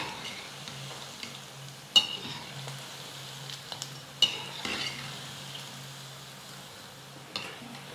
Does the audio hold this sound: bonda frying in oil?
yes